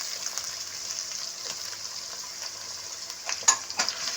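Onions frying in a pan for a quick dinner recipe, a steady close sizzle with a few louder crackles and a clink of a stirring utensil near the end, no talking.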